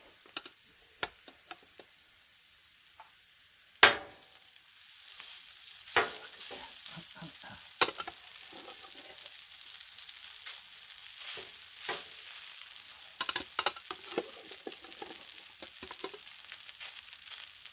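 Cajun fried rice frying and being stirred on a Blackstone flat-top griddle, a steady low sizzle with scattered scraping clacks of a spatula at irregular intervals, close and moderately quiet, no talking.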